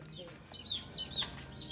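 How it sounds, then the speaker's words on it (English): Chickens, including young chicks, cluck and peep softly at close range, a low steady murmur of small calls under quiet background noise. "And they got chickens here too."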